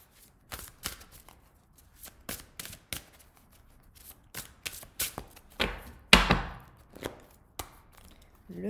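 Oracle cards being shuffled by hand, quick papery riffles and taps in irregular bursts, close and fairly clear, with one louder rustling flurry near the middle and no talking.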